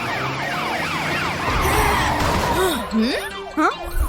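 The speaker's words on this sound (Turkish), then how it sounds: "Bu robot Matilda'nın sireni." A warbling toy robot siren wails up and down repeatedly, loud and near, with electronic sweeps and some noisy clatter toward the end.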